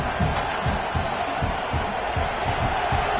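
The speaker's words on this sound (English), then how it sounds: "Listen to the crowd energy here in the early going." Dense stadium crowd noise at a college football playoff game between Miami and Texas, a steady roar with faint cheers and whoops, while a commentator's voice runs over it throughout.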